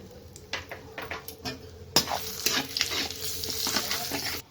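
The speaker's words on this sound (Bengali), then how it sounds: "একই তেলে আমি তেজপাতা আর গোটা গরম মশলা দিয়ে দিই।" Bay leaves and whole garam masala hit hot oil left over from frying duck eggs, bursting into a sharp sizzle among clicking, scraping stirs of a utensil in the pan, which stay close and busy until an abrupt stop.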